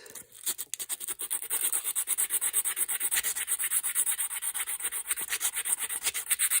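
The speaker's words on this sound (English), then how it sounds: "When I say file, I mean rub it down into place." Rhythmic rubbing strokes as a wooden rifle fore-end repair is sanded down into place, a steady back-and-forth scraping loud and close for several seconds with no talk.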